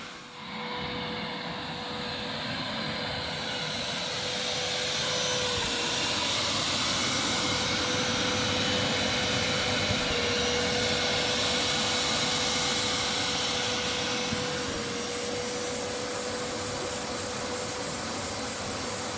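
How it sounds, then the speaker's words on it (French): A pond vacuum cleaner runs continuously for nearly twenty seconds, a steady droning motor whine with a constant pitch, loud and close, with no pauses. "Tu passes aspirateur."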